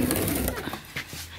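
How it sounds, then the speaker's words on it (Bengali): Fancy pigeons, freshly bathed and sunning on wet trays, give a brief, close, low coo amid soft background noise. "এখানে পায়রাগুলোকে স্নান করানো হয়ে গেছে।"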